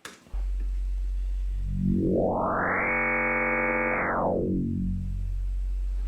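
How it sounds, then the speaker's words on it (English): An FM synthesizer tone whose modulation from oscillator B is turned up and then back down, a steady low drone that swells into a bright, buzzing, harmonically rich timbre before narrowing again. "as I increase this knob, it's going to increase the amount of modulation from oscillator B"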